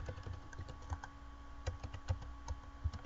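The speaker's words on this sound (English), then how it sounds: "And then I'm going to type in QID." Typing on a computer keyboard during order entry, a quiet, uneven run of soft key clicks over steady low background hum.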